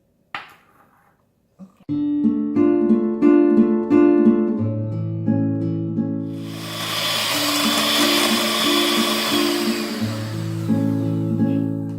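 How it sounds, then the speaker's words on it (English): An electric mixer hums steadily as it starts up, then a brighter, rushing whir takes over as the beaters whisk egg yolk and sugar for coffee and vanilla cupcakes, running continuously and close by with no talk. "You want to whisk it until it turns this pale yellow."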